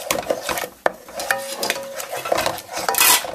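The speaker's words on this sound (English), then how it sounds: "just want to add a little pouring of cream in there. Mix that in" Spoon or spatula scraping and clinking around a pan as cream is mixed into scrambled eggs, close and busy, with irregular taps and a soft sizzle underneath.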